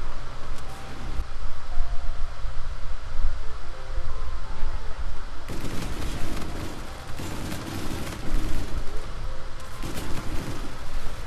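Rapid automatic gunfire from the Auger light machine gun in Call of Duty: Infinite Warfare, with dense bursts of shots and explosive booms over a steady game soundscape, getting louder and more intense in the second half.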